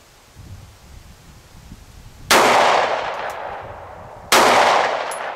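Two sharp, loud shots from a Beretta Nano pistol at an outdoor range, a couple of seconds apart, each with a bright crack and a decaying echo over a faint breeze.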